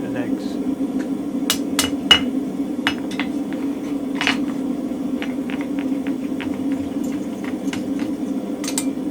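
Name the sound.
hammer striking spring fuller under the anvil, mild steel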